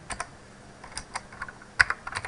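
Fast typing on a computer keyboard, a run of light, irregular clicks up close, with a denser cluster of louder keystrokes near the end.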